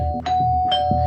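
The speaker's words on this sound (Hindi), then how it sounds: "कौन बेवकूफ है जो डोरबेल बजा बजा के नींद खराब कर रहा है सुबह सुबह?" An electronic doorbell chimes twice in quick succession, a clear two-tone ring close by.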